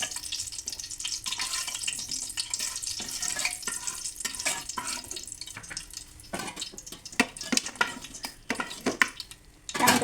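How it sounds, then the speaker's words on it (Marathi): Black cardamom pods roasting in hot oil in a pan, a steady crackling sizzle with sharper pops and spatters growing louder toward the end, close and without talk. "त्यानंतर ही मोठी इलायची तर ती घालून ती पण छान अशी खरपूस भाजून घेऊ"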